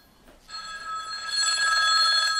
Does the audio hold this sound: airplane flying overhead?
no